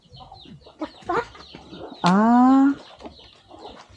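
Chickens cluck nearby in short bursts, with one long loud drawn-out call in the middle, while people speak quietly around them.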